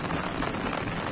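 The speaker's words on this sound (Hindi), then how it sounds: "देखिए किस तरीके की यहाँ पर बारिश हो रही है" Rain falls steadily in a village, a dense, even, broadband hiss of drops striking surfaces, close and continuous with no speech.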